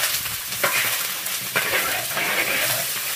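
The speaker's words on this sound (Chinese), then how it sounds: "我们再把排骨放进来爆香哈。" Blanched pork ribs stir-fry in a hot wok with a loud, continuous sizzle close by. A few sharp scraping and tossing hits from the spatula break through at intervals.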